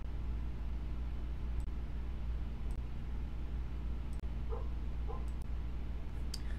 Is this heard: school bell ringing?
no